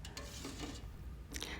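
Cuko sauce for pempek, a chili-laced broth, simmering at a boil in a pot while being stirred, with a steady bubbling hiss and soft scraping strokes running throughout, close and moderately quiet, with no voices.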